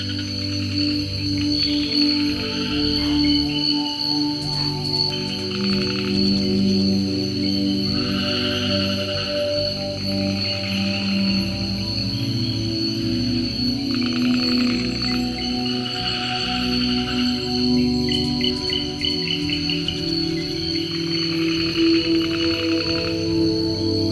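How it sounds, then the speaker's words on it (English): Night falls over a New Britain rainforest, with steady layered insect trilling and buzzing at several pitches and no clear pauses, humming on evenly throughout. "As day gives way to night, the soundscape of the rainforest comes to life."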